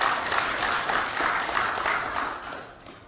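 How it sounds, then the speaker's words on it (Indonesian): A crowd at an Indonesian rally in Kalimantan bursts into dense, sustained applause, a steady wash of clapping that holds for about three seconds before starting to fade. "Ini orang-orang cerdas, tepuk tangan dulu."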